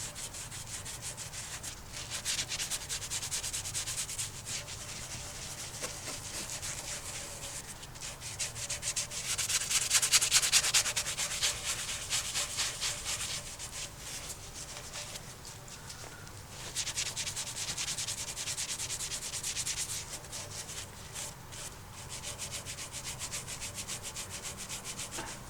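Pinnacle Exhaust Cleaner & Brightener is rubbed onto a car exhaust tip with a cloth, a steady close scrubbing rasp that keeps going in long strokes and swells midway, with no talk.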